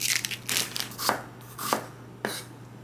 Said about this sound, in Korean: 육수에 들어갈 재료들은 남은 거를 썰어줍니다